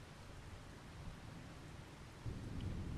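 Rain and thunder in the video game Farming Simulator 25, a soft continuous wash of rainfall with a low rumble that swells near the end, faint and steady with no voices.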